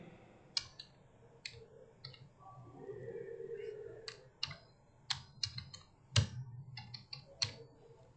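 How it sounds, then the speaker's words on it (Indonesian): Sparse keystrokes and clicks on a computer keyboard as an email address is typed, faint and close with irregular pauses between taps, over a quiet low hum with a soft murmur in the middle. "Selanjutnya ketikkan email masing-masing di sini"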